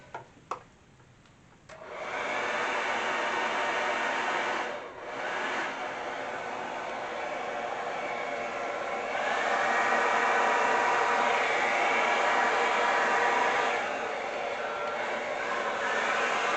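A hair dryer switches on after a couple of soft clicks and blows with a steady, loud whooshing roar. Its airflow shifts slightly now and then while it keeps running near the listener.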